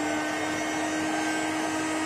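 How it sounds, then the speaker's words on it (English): A hot air gun blows air into a 1-liter lab flask to dry off methanol, giving a steady, loud, whining hum with a constant pitch and no pauses or speech. "Okay, this is hot air gun."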